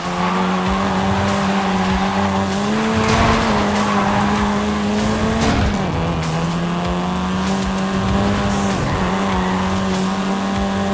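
A 2012-era seventh-generation Volkswagen Golf R races in Forza Horizon 5, its engine holding a loud, steady drone that dips and climbs briefly at two gear shifts, alone with no voices.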